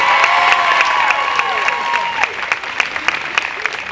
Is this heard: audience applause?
yes